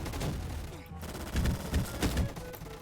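Rapid gunfire crackles in bursts during a Roblox Gunfight Arena match, moderately quiet and dense with overlapping shots.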